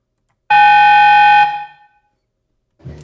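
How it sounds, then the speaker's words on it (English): Single steady electronic beep from a video game in development, signalling a lowered threat level, a bright tone held for about a second before fading, followed by a brief low thump. "If you click anything that's lower than the current one you're on, it will make a different sound, Aiden"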